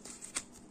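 A deck of game cards for a solo board game session, shuffled by hand in a quick, soft riffle with one brief, slightly louder flick, close and quiet.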